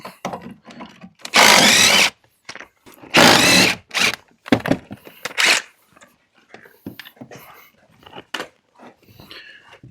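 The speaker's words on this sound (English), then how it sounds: "we'll start by taking this bolt out" A power tool backs out a seat bolt in a few loud, harsh bursts of a second or so each, separated by quieter handling clatter and small knocks.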